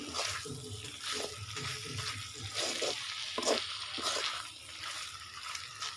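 Marinated meat sizzling and crackling in hot oil, a loud steady hiss with bursts of spattering, close up, as the meat begins releasing its own oil.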